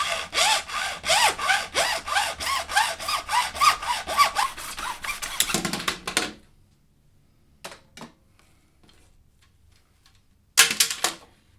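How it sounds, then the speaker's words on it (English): A hand saw cuts through a tube held in a mitre box, giving a close, steady rhythmic rasp of strokes that stops partway, followed by faint handling clicks and a short final burst of sawing. "Use a mitre box to help guide the saw blade and cut nice and slowly."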